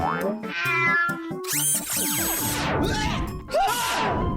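A cat meows several times in a row, with loud drawn-out cries that rise and fall in pitch, some of them strained and wailing, heard close and clear.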